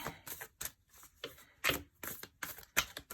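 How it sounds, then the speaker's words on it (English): Quick bursts of cards riffling and snapping together, several short shuffles in a row with brief pauses between, close and crisp. "This deck is really difficult to shuffle"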